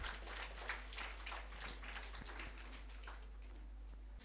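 An audience claps at a prize money distribution event, a faint, dense patter of many hands sustained evenly throughout, heard from a distance.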